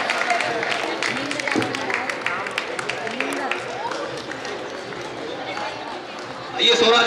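Applause from the audience at an awards ceremony in Gurgaon as a kabaddi player is called to the stage, with clapping running beneath someone speaking over a microphone and swelling louder near the end.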